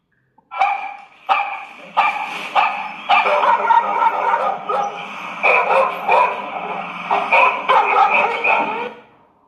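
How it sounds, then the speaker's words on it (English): A dog barks repeatedly and loudly, sharp yaps in an uneven rhythm, with no other sounds around. "A dog makes a sound called a bark"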